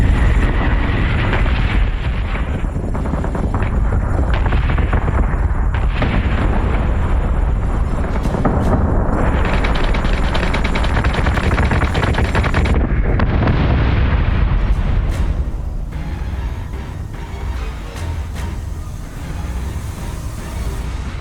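Missile explosions rumble through space combat in the video game Battlestar Galactica Deadlock, a loud continuous barrage of booms and blasts that thins out toward the end.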